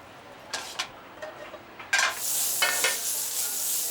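Potatoes dropped into a nice hot pan break into a bright, steady sizzle after a few scraping, clattering sounds of utensils and pan, with the frying continuing loud and even to the end.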